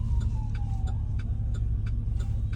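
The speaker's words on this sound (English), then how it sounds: "I hear a fire truck" A faint, distant fire truck siren wail slides downward in pitch over a steady traffic rumble, with soft regular ticking underneath.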